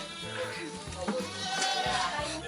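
A horned goat bleating at a farm, a few short, nearby bleats mixed in with people talking.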